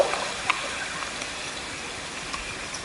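A waterfall in the video game Ghost of Tsushima gives off a faint, steady rushing hiss of falling water that continues unbroken in the background.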